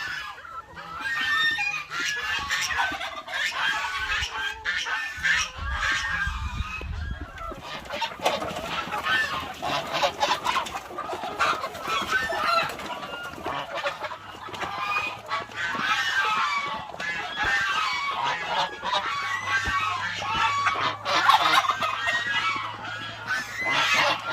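A busy farmyard chorus of honking, clucking and gobbling turkeys, ducks and chickens, calls overlapping continuously at close range with no pauses.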